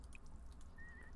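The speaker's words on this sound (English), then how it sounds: "Water the tree. There we go." Faint trickle of water from watering a tree in The Sims 4, with a few soft drips and a brief high whistle-like tone over a low background hum.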